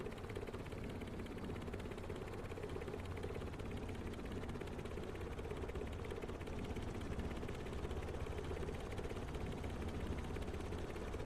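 A diesel helicopter flies steadily in a video game, a continuous droning engine and rotor hum that stays level and close throughout, with no talking.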